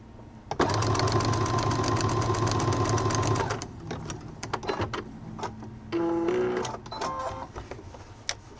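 A domestic sewing machine fitted with a zipper foot stitches a seam on a multi-purpose wallet, running in a steady loud burst for about three seconds, then quieter handling clicks and a short second stretch of stitching.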